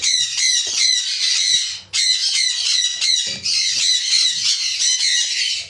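Sun conure parrot squawking loudly in a rapid, continuous run of shrill calls, breaking off briefly once before resuming just as intensely.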